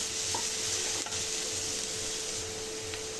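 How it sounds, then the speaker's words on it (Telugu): Finely chopped onions fry in a pan with a dense, continuous close sizzle and occasional stirring scrapes, steady and unbroken, with no speech. "ఈ ఆనియన్స్ అంతా గోల్డెన్ బ్రౌన్ కలర్ వచ్చేంత వరకు ఫ్రై చేసుకోవాలండి."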